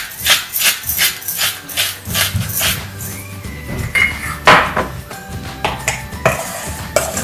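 A spoon scrapes and clinks rhythmically through a cauliflower pizza mixture in a pan, repeated stirring strokes close up with a faint sizzle beneath.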